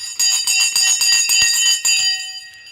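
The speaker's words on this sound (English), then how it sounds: "The bell's gone. There's the bell." A loud bell rings continuously for about two and a half seconds in rapid repeated strikes, then stops abruptly, with no talking.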